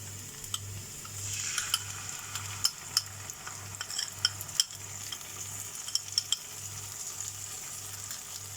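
Sauce is poured into frying chilli chicken, which sizzles steadily while a utensil stirs and scrapes the pan. Clinks and taps recur throughout over a constant low hum.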